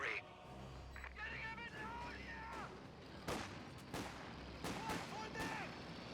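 A German MG42 machine gun fires a half or full burst in the Company of Heroes 2 strategy game, appearing as a few sharp, fairly distant cracks mixed with other battle noise while a commentator talks over it.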